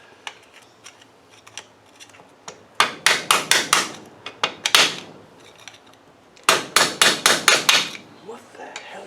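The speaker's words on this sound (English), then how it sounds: "Should have a screwdriver here from yesterday to knock that pin up." A screwdriver hammered to knock out a pin on a Land Rover R380 gearbox, sharp metallic strikes in two quick bursts of rhythmic blows, close and loud, with a few lighter taps before them.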